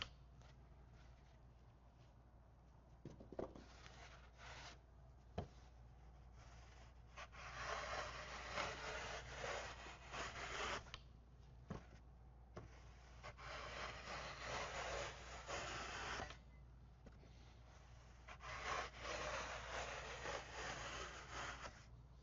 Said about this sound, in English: this can easily cut a V groove into the face of the project